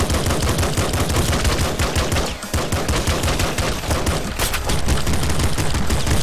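Rapid, continuous gunfire from weapons in the top-down shooter video game Nuclear Throne, loud and dense with machine-gun bursts throughout and a brief dip partway, no talking over it.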